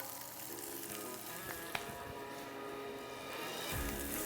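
Finely sliced shallots sauteing in a hot pan on the stove, a steady soft sizzle and crackle throughout with a few brief clinks of utensils, no voices.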